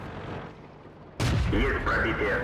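A sudden loud blast of a tank cannon shot in World of Tanks, from an M24 Chaffee, cuts through a quiet hum, followed by a rumbling echo and a voice talking over it.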